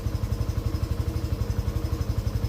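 A Yamaha FZ-S V3 motorcycle engine idles close by with a rapid, even low thump, chugging at a steady rhythm with nothing else heard.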